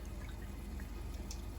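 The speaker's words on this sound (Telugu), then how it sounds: "చింతపండు వాటర్ రసం తీస్తున్నాడు." Soaked tamarind squeezed by hand to draw out tamarind water for a fish curry, giving faint, steady wet squishing and dripping in a quiet room.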